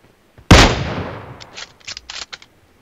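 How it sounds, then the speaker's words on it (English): One loud close gunshot in PUBG Mobile rings out with a long fading tail, followed by several quieter distant shots in a short uneven string. "I'm shooting at someone else."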